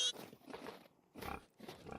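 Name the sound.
pigs oinking in the video game Vintage Story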